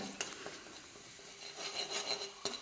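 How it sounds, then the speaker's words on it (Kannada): Garlic-ginger paste frying in a pan, a soft sizzle under scraping and stirring strokes with occasional light clinks of utensil on metal, close and without talk. "ನಾನೀಗ ಇದನ್ನು ಹುರಿದುಕೊಂಡು ಇದಕ್ಕೇ ಸ್ವಲ್ಪ ಈರುಳ್ಳಿ ಕೂಡ ಹಾಕ್ಕೊಂಡು ಹುರ್ಕೊಳ್ತಾ ಇದ್ದೇನೆ"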